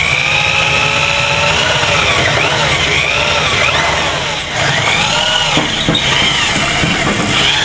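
A power drill boring holes at an angle through old bushings on a 1977 El Camino, running continuously at close range with a whining, varying pitch that rises and dips as the bit is worked slowly.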